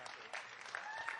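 At a member meeting, a brief burst of audience clapping sounds faint and distant, with a few sharper claps and a thin whistle-like tone mixed in.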